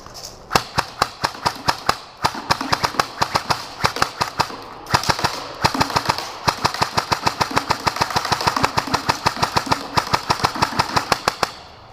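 An airsoft AKS-74U fires continuously on full auto in a torture test powered by an 11.1 LiPo battery, a fast, even rattle of sharp cracks over a whirring motor, loud and near, with brief slowdowns between bursts.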